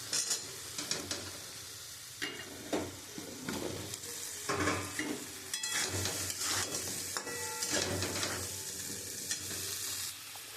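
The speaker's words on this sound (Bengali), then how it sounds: "আমি ওই তেলের মধ্যে আদা, রসুন, পেঁয়াজ এটা দিয়ে দেবো।" Ginger, garlic, onion and potatoes fry in hot oil with steady sizzling and crackling, punctuated by stirring scrapes and clinks of a spoon against the pan, close and continuous.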